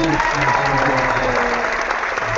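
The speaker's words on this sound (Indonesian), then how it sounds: "tadi tepuk tangannya seru" An audience at an Indonesian book-talk webinar applauds, a loud, dense burst of clapping that carries on steadily for a couple of seconds.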